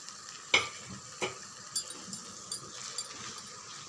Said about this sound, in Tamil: தீயை வந்து குறைவாக வச்சுட்டு நல்லா ஒரு 3 நிமிஷம் நல்லா வதக்கி விடுங்க